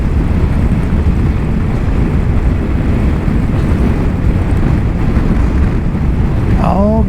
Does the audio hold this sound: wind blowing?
yes